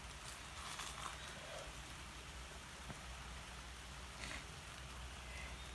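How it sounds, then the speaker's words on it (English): Raindrops are just beginning to fall, heard as a faint, even hiss with soft scattered patter throughout, no voices present. "The raindrops are just now starting to come down."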